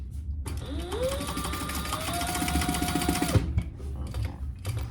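A sewing machine top stitching a laptop bag runs steadily for about three seconds with a fast mechanical chatter and a rising motor whine, close by, then stops, leaving low background hum.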